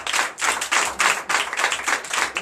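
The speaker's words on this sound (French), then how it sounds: "donc je vous demande de l'applaudir très fort." A church congregation at a Sunday service in Comè, Benin claps loudly and close, bursts of hand claps in a fast, roughly regular rhythm with no speech.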